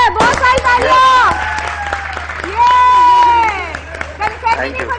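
A morning-show studio audience applauding and cheering as a scooter prize is won, with loud clapping under excited voices and upbeat sung or shouted tones, swelling in two bursts.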